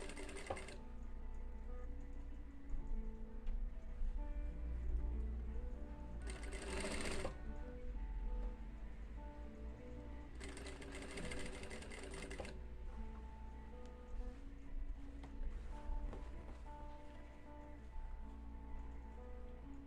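A sewing machine stitching a women's blouse hums steadily and quietly throughout, with two brief louder bursts of faster stitching.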